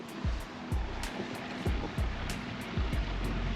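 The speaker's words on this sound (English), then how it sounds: "This is the mining sluice." Water rushing and splashing through a mining sluice at a Yorkshire cave attraction, a steady close wash with rhythmic surges and slaps, no voices.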